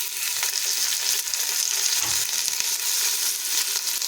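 Onions, green chilli and tomato frying for biryani, a steady loud sizzle with occasional stirring scrapes and no voices.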